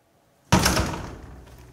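An attic door opening suddenly, heard as one sharp, loud thunk with a short rumbling decay, near and alone after quiet.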